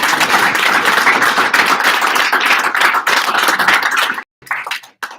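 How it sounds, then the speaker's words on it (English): Audience at a Veterans Day celebration applauding a panel, a dense, loud wash of many hands clapping that breaks off abruptly, leaving a few scattered claps at the end. "Let's give the panel a round of applause"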